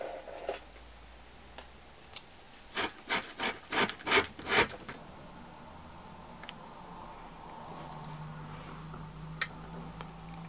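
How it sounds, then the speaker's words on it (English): Leftover embossing powder bits scraped off a craft mat during encaustic art work; a close burst of quick, dry scraping strokes in a rhythmic run, with a few faint scratches before and after against a quiet background. "any of these bits I can just scrape up off my craft mat and I can keep reusing."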